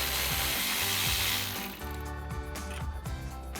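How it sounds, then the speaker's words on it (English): 10mm socket on a ratchet backing out a bolt on the outside bracket of a Toyota Tundra during bull bar installation, a dense close clicking run, then quicker uneven ratcheting strokes amid metallic rattle. "using our 10mm socket, we'll go ahead and remove that bolt"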